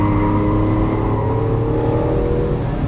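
Lamborghini Aventador LP700-4 engine pulling hard under acceleration in fourth gear on a track, a loud, steady, close-up roar from inside the car with a rising tone and no speech over it.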